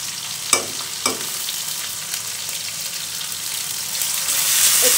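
Prawns fry in a pan with garlic, green chili and cumin paste, giving a steady broadband sizzle; a few sharp clinks of stirring land early, and the frying swells slightly louder toward the end, with no talking.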